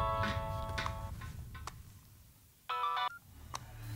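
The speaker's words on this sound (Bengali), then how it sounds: "ফোন বাজছে।" A telephone rings in a dramatic film scene: short, bright electronic ringing bursts, one early and one near the end, sit faintly over a low background rumble with scattered ticks.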